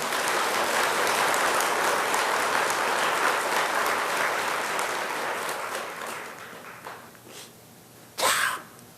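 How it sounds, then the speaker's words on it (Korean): Audience applause at a Buddhist dharma talk in a temple, a dense burst of clapping that fades gradually over several seconds, with a short sharp sound near the end. "그 노부상한테 박수 한번 보내주시오"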